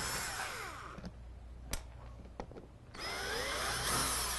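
Cordless power driver fitted with a Phillips bit backs out the screws on the side panel of a leather driver's seat in a 1995-99 Chevy/GMC Tahoe, Suburban or pickup: steady motor whine, a brief pause with a few clicks, then a second run, close by.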